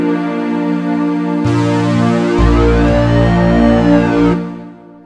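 Two layered MIDI keyboard sounds, a guitar patch on the lower keyboard combined with a second sound from the upper one, ring out as sustained stacked notes with new attacks entering partway through, loud and alone.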